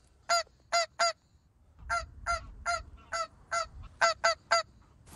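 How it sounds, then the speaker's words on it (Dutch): Geese honking overhead during a hunt in North Holland: a series of about a dozen loud, clear honks in small bursts of two and three, with faint low rumble underneath. "Dat was een gans of niet?"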